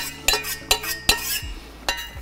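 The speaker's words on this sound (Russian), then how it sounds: "Правила говорят о том, что надо помешивать восьмеркой." Metal spoon working through Swiss cheese fondue of Gruyère, Emmental and Parmesan, giving four sharp clinks against the pot at uneven intervals with soft scraping between them, close and fairly loud with no talk.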